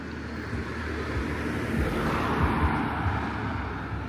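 Steady low rumble of road traffic in a village, a vehicle droning past at moderate distance with a continuous broadband wash and no speech.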